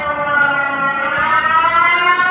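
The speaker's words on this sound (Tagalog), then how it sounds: "Nagbabadya na naman guys yung sirena." A civil defense storm warning siren wails loud and steady with a layered tone during a typhoon, rising slightly in pitch, with no voices over it.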